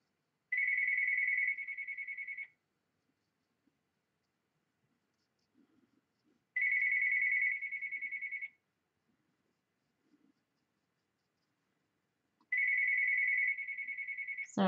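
A telephone rings three times, each ring a bright two-second electronic trill separated by long silent gaps, with faint background rustles between rings.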